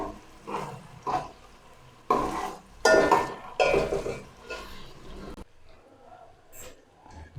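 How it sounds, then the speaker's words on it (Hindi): Onions fry in a pot while being stirred, giving a soft sizzle broken by scraping spoon strokes and clinks of cookware, fairly quiet and close, fading to a faint hiss near the end. "प्याज को आपने अच्छी तरह भून लेना है।"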